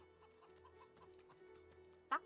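Chickens cluck softly in a fantasy role-playing game, Divinity Original Sin 2, a faint scattered clucking bed with one sharper squawk near the end.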